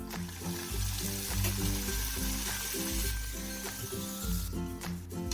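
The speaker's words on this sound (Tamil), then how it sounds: "ஒவ்வொரு பூரியாக போட்டு மீடியம் ஃப்ளேமில் வச்சு ஃப்ரை பண்ணி எடுங்க" Sweet coconut puris fry one at a time in hot oil over a medium flame, with a continuous dense sizzle and bubbling that holds steady close by.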